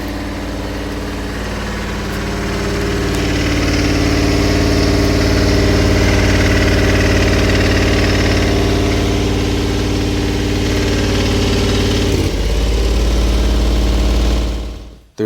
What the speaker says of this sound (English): that basically just turns on the range extender, which, by the way, makes the least pleasant noise